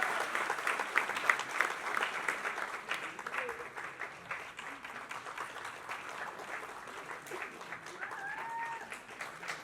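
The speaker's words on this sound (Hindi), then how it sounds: "जोरदार तालियां" A stage audience at a celebration of Padmashri Kailash Kher's fifty years gives sustained, dense applause through a book launch, steady and fairly loud throughout, with faint tonal voices or cries rising briefly near the end.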